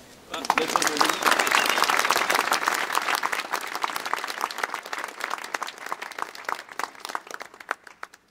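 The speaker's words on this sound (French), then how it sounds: "je pense qu'on peut tous applaudir Fotini" An audience applauds street artist Fotini at a street-art event, a dense burst of clapping that swells quickly, holds for several seconds, then thins into scattered claps, with voices in the crowd.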